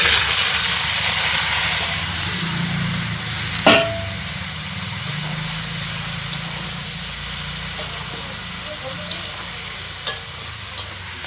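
Radish greens with a little spinach, coriander leaves and green chilli hit a hot pan, giving a loud, steady steamy sizzle and hiss close by, with a few faint scattered clicks and taps of a utensil.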